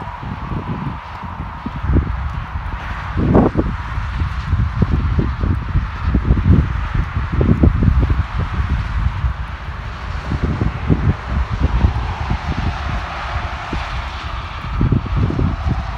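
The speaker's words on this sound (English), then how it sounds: "Today is too much windy and more strong than yesterday." Strong wind buffets the open countryside in continuous low rumbling gusts, loud and close, with no one talking.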